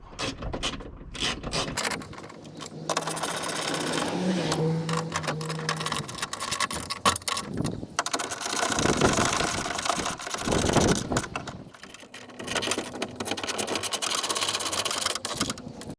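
A power tool whirs and ratchets in several bursts while tightening a front window regulator and motor on a 2007 Ford F150, with brief pauses between the close mechanical runs.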